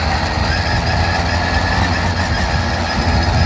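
A motorcycle engine runs with a steady, loud rumble and a slightly uneven, sputtering exhaust caused by a soot-clogged pipe, heard close up and alone without talk.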